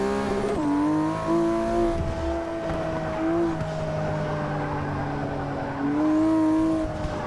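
Race car engines in Forza 6 rev and scream continuously, pitch rising and falling through gear shifts and throttle lifts, with tire squeal under the loud engine note.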